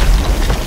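Gunpowder barrel blowing up in the pirate game Sea of Thieves, a brief dense blast of loud broadband noise with heavy low rumble, alone without speech.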